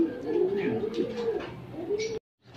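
Racing pigeons coo steadily at close range while being fed just after arriving home from a race, with soft rustling and a brief cut to silence near the end.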